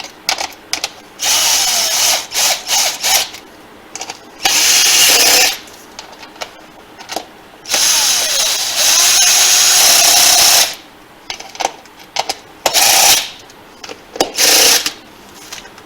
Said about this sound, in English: I love this little hand drill. It comes in handy.